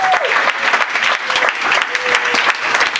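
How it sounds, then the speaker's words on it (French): A church congregation applauds loudly and steadily throughout, dense clapping filling the space, with a sustained tone briefly audible underneath. "Applaudissons très fort."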